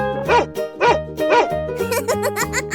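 A cartoon dog in a 3D animal slide video game barks in a quick series of short, bouncy yaps, a few evenly spaced and then faster ones, loud and up front.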